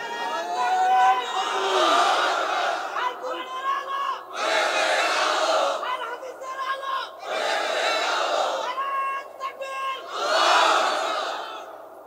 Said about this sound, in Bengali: দেন স্লোগান।